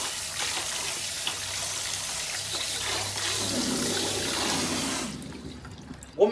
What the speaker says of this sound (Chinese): 羊排泡了3个多小时，我们把它洗一下